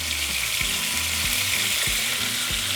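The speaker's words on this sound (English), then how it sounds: "in the same oil, we're going to cook our meat" Ground meat frying in oil with spices sends up a loud, dense, continuous sizzle and crackle close up, with low bubbling beneath and no talking.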